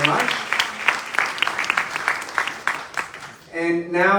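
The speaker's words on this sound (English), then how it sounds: "let's also give a round of applause to our sign language interpreters, Andrea and Johnny" An audience at a New York town hall meeting claps for the sign language interpreters, scattered, moderate applause that fades within a few seconds before a voice comes in.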